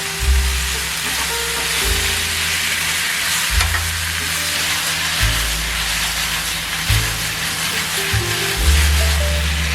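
Cabbage stir-frying in a pan with a little salt, a loud continuous sizzle and crackle close up, with repeated scraping stir strokes across the pan surface.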